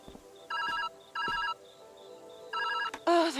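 A telephone rings in the Viewfinder video game: three clear trilling bursts, evenly spaced and fairly loud, followed by a brief voice-like sound at the very end.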